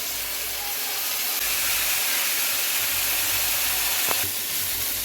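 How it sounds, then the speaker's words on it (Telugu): Dried shrimp frying slowly in hot oil over a low flame for a tomato and dried shrimp curry, giving a steady, even sizzling hiss that holds throughout with no voices. "చూడండి ఈ విధంగా చిన్న మంట మీద మనం రొయ్యలను గోలించుకోవాలి"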